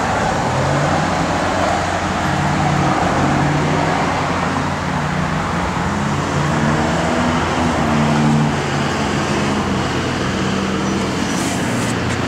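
A 1970 Dodge Challenger's engine runs at a steady idle, a continuous low rumble heard up close with no talking.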